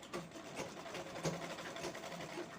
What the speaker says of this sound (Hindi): सिलाई लगा दूंगी राउंड शेप में